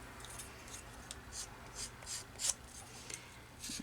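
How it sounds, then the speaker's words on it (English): Sandpaper rubbing over the cut edges of a handmade Halloween ornament, giving a series of soft, close, scratchy strokes at an uneven rhythm, each one brief and fairly faint. "I'm just going to use some of my sandpaper and just kind of rough those edges up."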